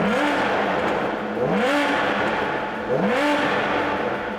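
Stock 2009 Aston Martin DBS with a manual gearbox, its engine revved repeatedly: three rising blips roughly a second and a half apart over a steady loud idle, close and alone.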